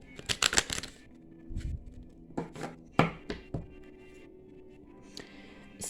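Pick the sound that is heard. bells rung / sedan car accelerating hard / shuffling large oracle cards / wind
shuffling large oracle cards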